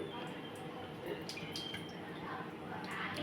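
Cooking oil poured into a pan on a stove for chicken fry, a faint, soft trickle with light dripping, heard under a quiet voice in a kitchen.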